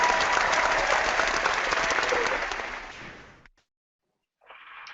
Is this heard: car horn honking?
no